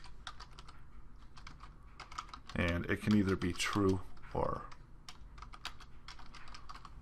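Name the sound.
typing on a computer keyboard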